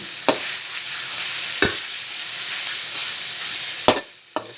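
Minced pork stir-fried in oyster sauce sizzles continuously in a pan, with a few sharp spatula scrapes and clacks standing out at irregular intervals; no one speaks.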